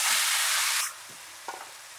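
Boiled greens are stir-fried with browned onions in a pan, a loud hiss of frying that drops away abruptly partway through, followed by a couple of quiet scrapes and knocks of a spatula.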